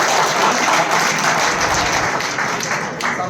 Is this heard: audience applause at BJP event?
yes